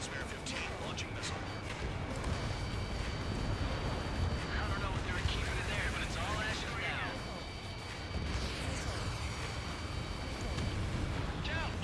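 An F-15 in Ace Combat 7 fires a missile amid rumbling explosions and jet roar. The sound stays fairly quiet and continuous while a voice talks over it.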